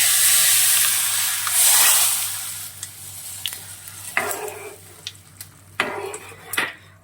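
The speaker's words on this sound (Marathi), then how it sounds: "खमंग अशी फोडणी घातली आहे" Hot tadka poured over sour chuka greens bhaji gives a loud sizzling hiss that fades, followed by scattered clinks and stirring scrapes of a spoon against the pot.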